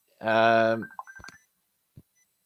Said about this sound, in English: there was somebody ringing me when I'm supposed to be in a party that I'm not